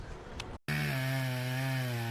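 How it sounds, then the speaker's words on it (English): A chainsaw cutting into a fallen, uprooted tree starts abruptly after a brief gap and runs loud and steady with a strong, even engine whine. "The man approaches, gripping his sharp chainsaw with steady hands."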